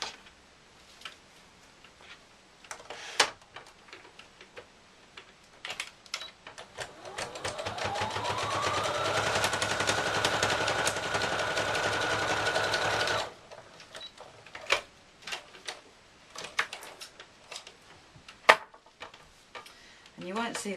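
A sewing machine runs a straight stitch across a Santa cushion hat, whirring steadily for several seconds in the middle; before and after come quiet handling clicks, fabric rustle and brief spoken comments.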